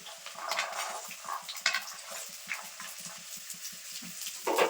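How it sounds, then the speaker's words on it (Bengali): Carrots, green chillies and peas being stir-fried in a pan for vegetable fried rice, with a steady run of soft scraping spatula strokes and light sizzling, close by and fairly quiet. "এবার দিয়ে দেবো কাঁচা লঙ্কা মটরশুঁটি"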